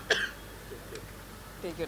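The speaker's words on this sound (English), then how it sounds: "bad time to have this cough attack" A man clears his throat and gives a short cough during an indoor conversation, a brief sharp burst followed by a couple of faint throaty sounds, close and otherwise quiet.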